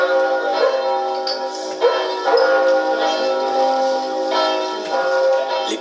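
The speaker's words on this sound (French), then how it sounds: "les cloches de l'église se mettent à sonner" Church bells ring out for the Sainte Rolende Pentecost Monday procession, their layered tolls swelling and overlapping in a loud, continuous peal.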